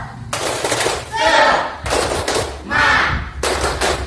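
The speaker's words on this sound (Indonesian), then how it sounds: "Tepuk semangat." Students in a junior high classroom doing a rhythmic spirit clap, loud patterned bursts of group clapping in repeated phrases separated by short pauses, with voices chanting along.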